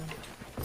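Horse hooves in Red Dead Redemption thud in a brief soft clip-clop, a couple of dull hoofbeats at moderate distance within less than a second, with no voices.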